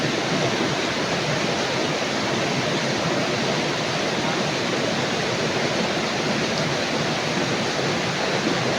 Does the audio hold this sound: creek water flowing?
yes